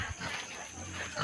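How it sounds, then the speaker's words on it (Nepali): Pig at a rural home gives a faint, short grunting snort that is heard at a distance against low background noise. "फेरि सुँगुर छ क्या हाम्रो"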